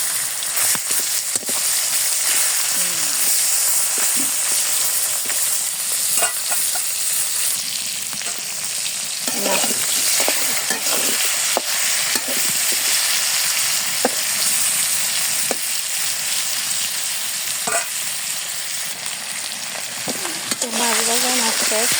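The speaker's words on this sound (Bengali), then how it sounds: "তেল দিয়ে দিই, মাছ ভাজুমু।" Fish fries in hot oil in a wok, giving a loud, dense sizzle that continues throughout with scattered crackles and occasional faint clinks.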